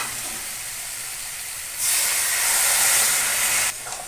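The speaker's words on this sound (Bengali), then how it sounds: "অল্প করে একটু জল দেবো।" A little water poured into a hot pan of fish head curry with Malabar spinach sets off a loud hiss and sizzle that swells sharply for about two seconds, then drops back to a softer steady crackle.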